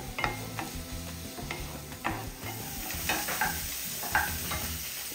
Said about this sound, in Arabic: غادي نخليه كيتشحر مع البصيله حتى كيدبل